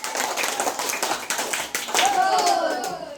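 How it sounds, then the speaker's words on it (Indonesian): A classroom of children clapping a patterned praise cheer of several claps, brisk and close, mixed with voices. "Kita beri 5 kali tepuk pujian untuk anak Fadli"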